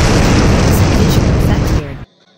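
A grenade explosion bursts as a loud, close, roaring boom that holds for nearly two seconds before cutting off sharply into quiet.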